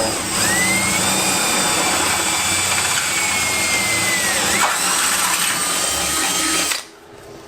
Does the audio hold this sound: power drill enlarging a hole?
yes